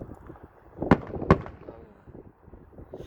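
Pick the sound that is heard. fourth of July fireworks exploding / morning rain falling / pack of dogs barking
fourth of July fireworks exploding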